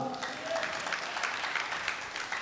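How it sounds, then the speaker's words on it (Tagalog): Worshippers at a church service clap in praise, a brief, fairly steady spatter of many hands with faint voices mixed in. "Palakpak para sa Panginoon."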